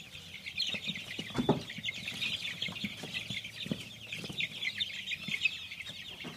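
Chickens clucking in a yard while a curious dog watches, steady close clucks and squawks repeating throughout with a few sharper calls, no talking.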